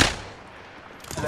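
Gunfire in the Apex Legends video game, with a loud burst at the start and another cluster of shots near the end, a quieter stretch between.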